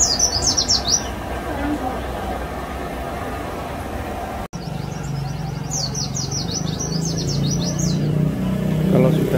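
Pleci white-eye birds kept in cages set apart so they answer each other, giving bursts of high, rapid chirps and trilling calls over a steady background hum, with a short gap in the middle.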